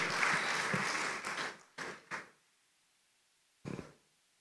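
Applause for the chairman at a company launch event is fairly faint and tapers off, with a few trailing claps breaking up into separate bursts before quiet, and a final brief clap.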